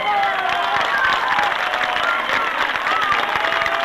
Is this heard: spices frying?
no